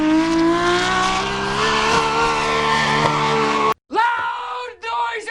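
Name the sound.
drift car engine roaring, Nissan S15 with RB28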